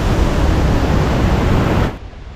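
The Hogenakkal waterfall roars with a dense, loud wash of falling and spraying water heard up close, then it drops away abruptly near the end.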